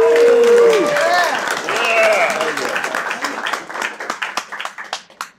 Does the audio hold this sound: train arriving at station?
no